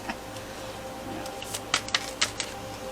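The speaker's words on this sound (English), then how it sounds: "I'll just shuffle these suckers if it's the last thing I do." Tarot cards shuffled by hand, heard up close as a few crisp, papery riffling bursts in the latter half over a quiet background, with no talking.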